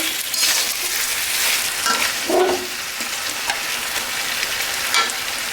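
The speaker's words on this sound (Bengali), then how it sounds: "এই যে মাংসটা কষানো হয়ে গেছে তেল ছাড়ছে" Beef sautéed in oil until the fat separates hisses in a pan with a continuous close sizzle, while a spatula scrapes and stirs in occasional strokes and the pan gives a few light clinks.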